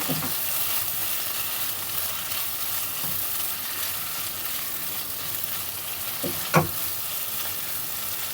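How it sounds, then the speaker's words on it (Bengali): Potatoes stirred into spices in a hot pan give a steady sizzle and fry, with a few louder scrapes and knocks of the spoon against the pan. "এবার আমি আলুটা দিয়ে দেবো আলুটা একটু মিশিয়ে নেব মশলার সঙ্গে"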